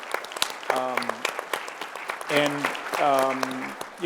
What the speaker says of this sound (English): Let's do a round of applause just for everyone who asked a question.